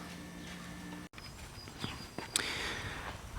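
Horses shifting in their stalls, a Curly and a Clydesdale, with a few soft hoof clops and rustles at moderate distance in a quiet barn, no one speaking.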